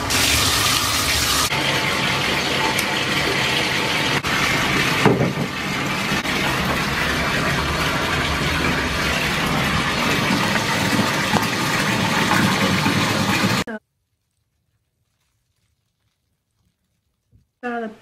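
A bathtub fills from the tap with a loud, steady rush of running water for about fourteen seconds, then stops abruptly into near silence, with a brief faint sound right at the end.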